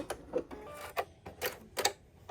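Singer C7255 sewing machine run at slow, medium and fast settings, giving short separate bursts of mechanical whirring and clatter with pauses between them, close and moderately loud.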